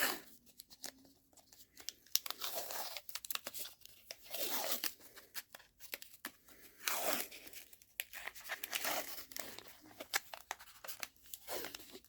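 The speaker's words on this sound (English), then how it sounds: "go ahead and tape this all back up" Tape is torn and crinkled in repeated short, scratchy bursts while a Spyderco Paramilitary 2 knife is taped back up, the quiet ripping sounds coming up close and intermittently with small pauses between pulls.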